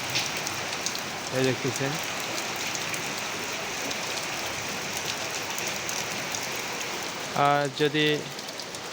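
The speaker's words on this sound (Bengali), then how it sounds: "দেখতেছেন প্রচুর পরিমাণ বৃষ্টি হচ্ছে" Heavy rain pours down in Faridpur district with a dense, even hiss throughout, while someone speaks briefly twice over it.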